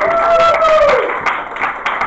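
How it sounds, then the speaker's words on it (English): Audience claps at an improv theater show, with scattered hand claps that thin out into a few separate taps, heard alongside a brief sustained tone at the start. "for a warm round of applause"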